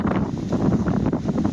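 Steady wind gusting and buffeting the microphone outdoors in November, a constant roaring rush with no pauses and no talk over it.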